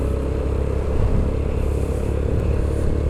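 A motorcycle rides on a long road trip through Pakistan toward Skardu. Engine and wind roar stay loud and steady throughout, with no break.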